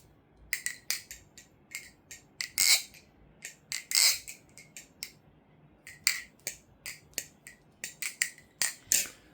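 Sharp, crisp clicks and clacks in quick irregular bursts, close and fairly quiet, from a resin Seeth Designs Pharoah balisong trainer being flipped, with short pauses between flurries.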